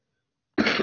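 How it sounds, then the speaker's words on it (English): A single close, abrupt cough breaks the silence and lasts under half a second, loud and harsh. "I'm about to cough."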